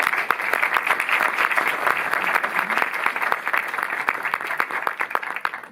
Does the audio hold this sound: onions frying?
no